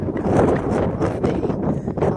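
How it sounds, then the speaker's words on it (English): Strong, steady wind on a mountain ridge in the Kaimanawas buffets the microphone in broad rumbling gusts, with no voices, just continuous blustery roar. "It's really bitterly cold and windy up here"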